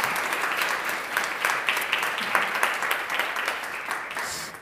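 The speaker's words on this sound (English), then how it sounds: "an extra huge round of applause for Arie that he made it" Lecture audience gives a big round of applause for an arriving guest speaker, a steady, even wash of clapping from many hands, moderately loud and continuous throughout.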